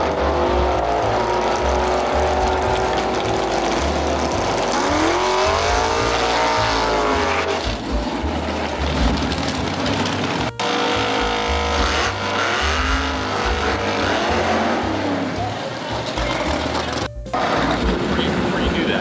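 A Camaro drag races at Cayuga Dragway, its engine revving and roaring loudly, with rising and falling pitch sweeps, sharp bangs and abrupt cuts as the car launches and runs, while an announcer talks over it.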